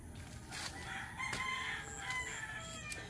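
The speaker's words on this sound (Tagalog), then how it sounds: "Ingay pa rin ng mga manok." Roosters crow repeatedly in the distance over a steady outdoor background in a rural Philippine village at morning, with several overlapping calls and faint clucking in between.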